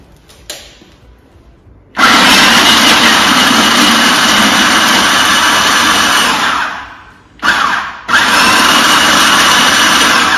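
Food processor blitzing walnuts and dark chocolate chips for energy balls, a loud grinding whir that starts abruptly, runs about five seconds, briefly stops, then pulses again near and alone.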